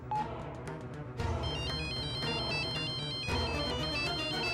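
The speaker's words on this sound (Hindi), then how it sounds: "काका ठाकुर, सीएम का फोन।" A melodic electronic phone ringtone plays loudly and continuously, its bright repeating tune cycling over a steady backing, with no voices.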